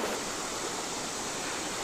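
Clear, cold spring water flows at Alley Spring Mill near the Jack's Fork River in the Missouri Ozarks, a steady broadband rush that stays even and close for the whole moment, with no voices.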